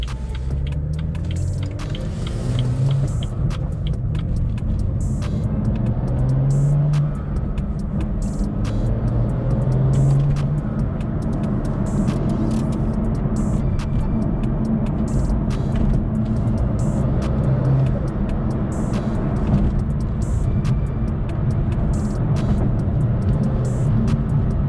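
A BMW M2 with a Stage 2 tune rumbles steadily as it drives, deep and continuous, with road noise and occasional low surges.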